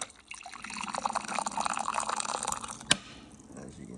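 Hot water from a commercial-grade bottleless reverse osmosis dispenser pours steadily into a cup in an office, a continuous close liquid stream with one sharp clink near the end.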